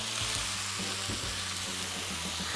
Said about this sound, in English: By crisping up the bacon, we're just going to try to do all sides of that pork tenderloin